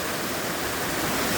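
Water pouring out from inside rock in a mountain stream, a steady full-band rushing wash with no pauses, close and fairly loud throughout.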